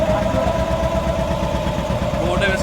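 A boat engine in Bhitarkanika, Odisha runs with a loud, steady low rumble and a rapid pulsing throb that holds evenly from start to finish.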